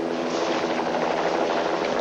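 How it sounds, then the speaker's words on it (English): Steady droning rumble of a helicopter, fairly loud and unbroken, with no voices over it. "I hear it again. The helicopter's back."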